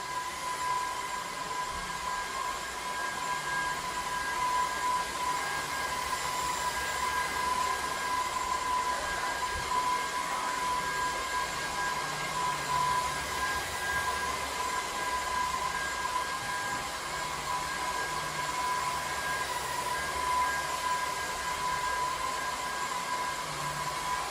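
A TAB T9 Pro cordless wet-dry vacuum cleaner runs in dry mode with a steady, unbroken motor whine and airy rush from start to finish, close and fairly loud, with no talk.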